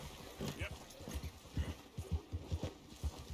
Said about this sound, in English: This is how you catch a horse.